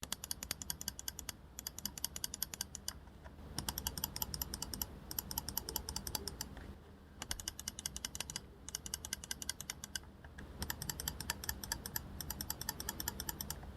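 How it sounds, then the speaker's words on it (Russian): Crisp, rapid clicking of the buttons on an MSI Clutch GM41 lightweight wireless gaming mouse, pressed in quick bursts with short pauses between, close and fairly quiet. "Кнопки удобные в использовании, нажатие среднее, клик четкий."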